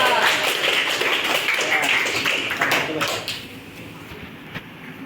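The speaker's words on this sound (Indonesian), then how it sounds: "tepuk tangan buat kelompok 4" Classroom applause for a student group after their presentation in an Indonesian teacher-training peer-teaching session, steady clapping throughout that slowly thins and fades toward the end.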